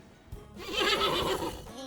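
A horse in an animated children's episode about animals lets out a single loud, wavering whinny lasting about a second, heard alone and close.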